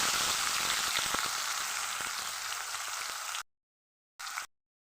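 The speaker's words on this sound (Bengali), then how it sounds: "তেল ঢেলে দেওয়ার পরে তেজপাতা দিয়ে দিলাম," Ground spice paste fries in hot oil with bay leaves, a loud dense crackling sizzle that runs steadily, then cuts off abruptly, returns as a brief burst and falls silent.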